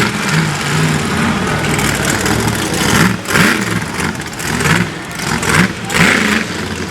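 Monster truck Instigator's engine revving loudly at a dirt-track racing event, a continuous heavy roar with repeated surges as the throttle climbs and falls, close and dominant throughout.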